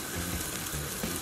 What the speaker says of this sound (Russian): вода бурлит, ждем, пока повсплывает